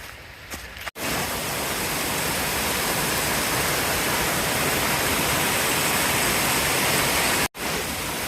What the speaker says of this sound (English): I'm gonna walk towards the Kings Creek waterfall